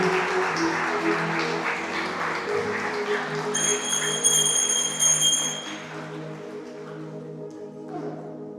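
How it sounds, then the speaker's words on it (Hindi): Congregation clapping loudly at a Catholic deliverance adoration service, with steady dense applause under sustained keyboard tones before it fades away toward the end. "जोरदार ताली बजाएंगे लोगों को धन्यवाद से जोर से बहुत जोर से ताली बजाएंगे"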